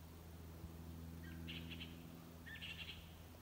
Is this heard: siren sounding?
no